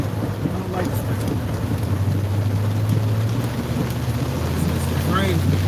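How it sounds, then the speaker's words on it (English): Heavy rain pours down with rumbling thunder outdoors, a dense, constant roar close by, with faint voices underneath. "Raining hard."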